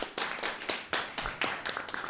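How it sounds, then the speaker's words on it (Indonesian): Hand claps from a small audience at an Indonesian election discussion event, a few loose, uneven bursts of clapping, fairly quiet and not joined by talk. "beri tepuk sekali lagi dong untuk beliau"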